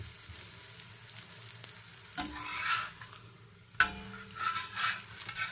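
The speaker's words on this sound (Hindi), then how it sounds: "अब ये मैं इसमें घी डाल रही हूँ। ठीक है, इस तरफ भी घी लगाती हूँ, उस तरफ भी" Ghee sizzles softly as a paratha fries on a pan over a low flame. The steady sizzle is broken by a few scraping and stirring movements of the pan, and a sharp clatter lands near the end.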